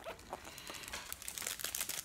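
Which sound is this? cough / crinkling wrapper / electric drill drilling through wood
crinkling wrapper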